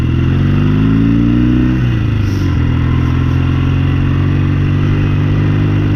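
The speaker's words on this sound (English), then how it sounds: "it's crackling and popping through the exhaust" A loud 1969 Norton Commando Mk1 motorcycle engine runs close up, its steady rumble dipping in pitch as the throttle eases, with rough crackling and popping through the exhaust.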